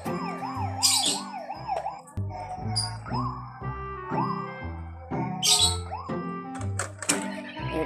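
A silver toy police car plays its electronic siren: rapid warbling wails alternate with bursts of chirpy electronic tones and melodic beeps, loud and close, with no talking.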